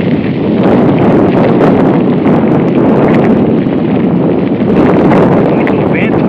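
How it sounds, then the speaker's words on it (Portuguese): Strong, steady wind roars across a dry, drought-stricken riverbed in Maranhão, Brazil, a loud continuous buffeting that fills the whole stretch with rumbling gusts and microphone wind noise. "Aqui venta demais, demais mesmo."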